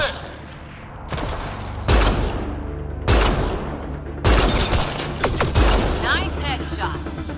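Gunfire in a Mass Effect battle on the planet Voeld: loud bursts of shots and booming impacts come in several waves, with mechanical clatter between them.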